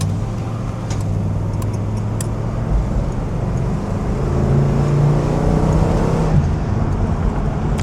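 A 1969 Oldsmobile 442 W-30 with a 360-horsepower engine accelerates in a loud, sustained rumble that rises in pitch and strength, heard from close by with road noise and no talking.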